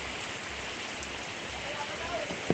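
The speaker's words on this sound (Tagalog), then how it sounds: "Lakas ulan o!" Heavy storm rain roars steadily and loud, with a brief voice cutting in near the end.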